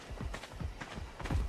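Horse hooves clip-clop in ARK Survival Evolved Genesis 2, sounding as four evenly spaced, moderately close thuds in a steady walking rhythm.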